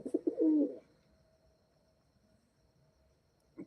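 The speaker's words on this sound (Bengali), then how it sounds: "আমাদের পায়রাগুলো সব এখানে ছিল" Pigeons kept at home give a short, soft cooing burst at the start, then near silence with faint background hiss and a small sound at the end.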